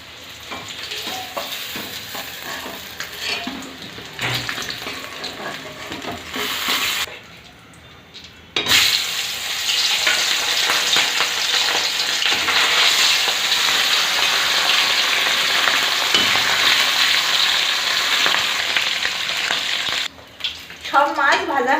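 Shoal fish frying in mustard oil in a kadai, a steady loud sizzle with occasional stirring and pan clatter that drops out briefly midway, then continues unbroken to the end.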